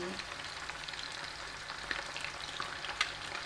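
Fish sizzles and crackles steadily in a hot pan with oil, a quiet, even frying hiss broken by a couple of small pops, heard close with no speech over it.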